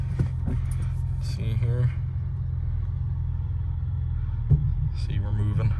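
A 1998 Ford Contour SVT rolls along after being put in gear, its low engine rumble steady throughout while someone talks over it.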